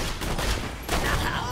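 Shotgun blasts in the video game Borderlands 2, two loud bursts close together with broadband booms and rattling tails amid chaotic combat noise.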